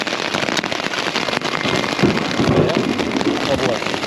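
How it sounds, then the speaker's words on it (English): Hail patters steadily on a camping tent on the Colorado Trail, a dense crackling rain of small impacts close overhead, with a low rumble and faint voices underneath. "This is now the hail bit."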